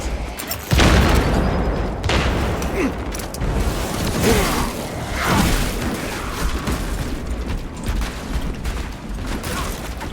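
A flash stun grenade detonates in Warhammer 40K Space Marine 2 with a sudden loud boom near the start, followed by a sustained roar of battle noise and clattering mechanisms.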